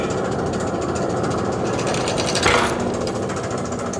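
A rebuilt Kelly Duplex 2-ton paddle mixer runs with its paddles turning, giving a loud, continuous mechanical rumble and clatter close by, with a brief louder knock midway.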